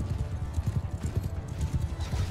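Horse hooves pound the ground in a Bannerlord video game battle, a dense, rapid rumble of overlapping gallops, close and loud, with no voices.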